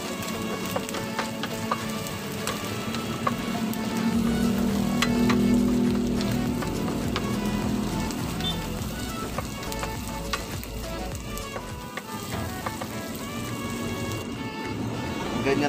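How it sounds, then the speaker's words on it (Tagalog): Sisig-style sardines with mayonnaise sizzle steadily in a hot pan while being stirred, a dense close crackle with occasional scraping of the spoon, no talking. "Haluin lang natin ulit."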